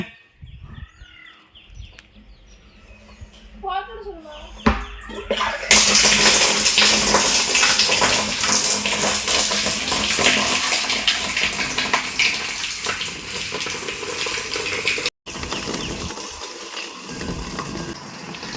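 A motor pumping water into a tank after cleaning, with steady loud gushing and splashing that starts after a few seconds of quieter sounds with a voice and birds, continuing strongly to the end.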